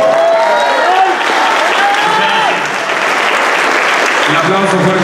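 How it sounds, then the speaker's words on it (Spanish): Loud, sustained audience applause at an awards ceremony in Mixquiahuala, thick continuous clapping with cheers, while voices speak over it. "Un aplauso fuerte"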